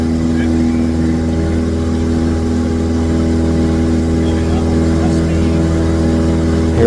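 A small airplane engine runs at full power during the takeoff roll, a loud steady droning hum with a constant tone heard from the cockpit, while someone speaks over it.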